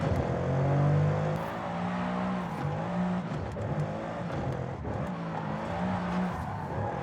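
Mercedes E63S V8 in Forza Horizon 5 revving on the road, a steady loud engine drone rising and falling with several sharp exhaust pops and bangs, no talking.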